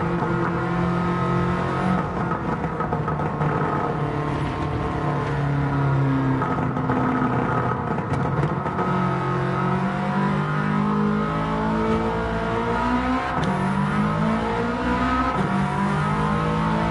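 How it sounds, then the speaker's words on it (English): A race car with an anti-lag system in the video game Gran Turismo 7 revs hard through repeated rising and falling gear pulls. The engine note is loud and continuous, with crackling bursts and brief tire squeal. "Now this car does have the anti-lag system on it."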